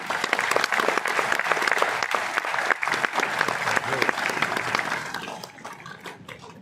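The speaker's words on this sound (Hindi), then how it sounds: "इनके लिए एक बार जोरदार तालियां" Loud, sustained applause from a sizable crowd, dense clapping throughout that thins out slightly toward the end.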